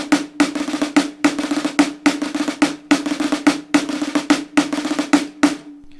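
Rudimental march phrase on a solo snare drum, played as crisp rattling rolls and accented strokes in repeating bursts, close and loud, with no voices.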